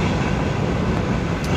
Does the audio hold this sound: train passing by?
yes